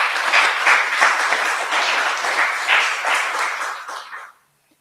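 A political forum crowd breaks into dense, sustained applause that holds steady for several seconds, then fades quickly to silence.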